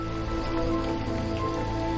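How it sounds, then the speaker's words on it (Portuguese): Rain falls steadily on the Atlantic Forest, a dense, continuous patter that fills the whole moment at an even level, joined by a soft, sustained tonal hum. "A chuva cria poças, que transbordam em incontáveis riachos."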